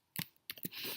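Keyboard keys tapped in short clicking bursts while placing text in a graphics program for a t-shirt proof, two close clusters separated by a brief pause, fairly faint and without talk.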